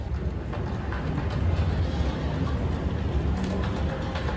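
Steady low rumble and rattling inside a moving train heading into central Helsinki in winter, continuous and fairly loud throughout.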